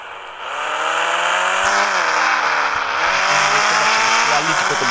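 An ATV engine in the mobile game Indian Bike Driving 3D revs loudly and steadily, its whining pitch climbing and shifting in stages as the quad bike accelerates, continuous throughout.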